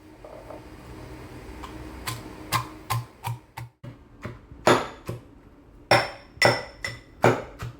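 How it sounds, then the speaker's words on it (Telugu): Chopped ginger and cleaned garlic cloves pounded into paste with a mortar and pestle for a mutton curry: a series of about a dozen sharp, close knocks with slight clinking, in an uneven rhythm that grows stronger toward the end, with no talking. "చిన్నగా తరుక్కున్న అల్లం ముక్కలు అండ్ క్లీన్ చేసి పెట్టుకున్న వెల్లుల్లి పేరేకల్ని ఇందులో వేసి నీట్గా పేస్ట్ చేసాం"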